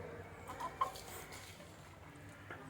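Several country chickens cluck softly nearby, with short bursts of calls over a low outdoor background hum.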